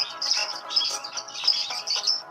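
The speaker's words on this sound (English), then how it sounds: "Birds chirp." Small birds give rapid high chirps and tweets in quick clustered bursts. The calls sound close and bright, with nothing else heard.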